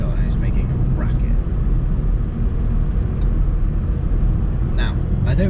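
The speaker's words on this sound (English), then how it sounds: "I'm in fourth gear doing 30 mile an hour going up this hill and it's making a racket." A car engine labours uphill in fourth gear at about 30 mph, a loud, steady low rumble and drone that runs throughout, with faint voice sounds on top.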